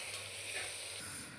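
Ginger garlic paste sizzles in a hot pan for biryani, giving a brief, quiet, steady frying hiss with no voices.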